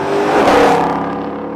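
A Ford Mustang Shelby GT500 on a race track revs hard. The close, loud engine roar swells to a peak and then fades as the car pulls away.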